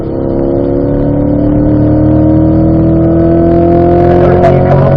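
A car accelerates firmly out of a corner on a race track, its loud engine note climbing steadily and continuously with no break.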